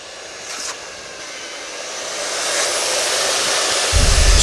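Two-coat cement wall coating being mixed: a steady whirring, rushing noise that slowly builds in loudness over a few seconds, with a deeper rumble joining right at the end and no talking.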